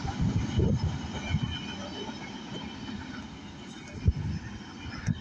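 A northbound manifest freight train rumbles past in Springfield, Tennessee, a steady low roll of wheels and cars with faint squeals, heard from trackside as a storm approaches.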